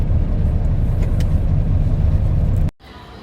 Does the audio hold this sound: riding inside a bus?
yes